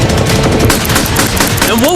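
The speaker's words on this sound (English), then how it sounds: "They just brought out the LMG." Light machine gun firing at a cinder-block fortress wall: a loud, dense, rapid stream of shots with impacts, close and relentless, with a brief voice-like tone near the end.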